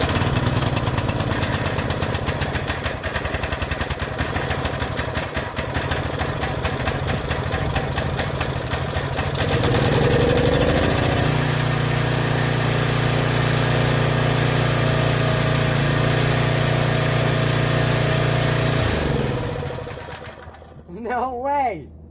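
A free gas pressure washer engine cranks with a hard pull-start, then fires and settles into a loud, steady idle that runs for several seconds before cutting off near the end, with voices talking briefly.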